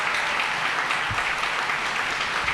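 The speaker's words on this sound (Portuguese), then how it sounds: "O espetáculo ao vivo ganhou muitos aplausos depois de tanto tempo transmitido apenas pela internet." Dense, steady applause from a theatre audience at a live concert, a continuous wash of many hands clapping that fills the whole stretch at even loudness with no voices.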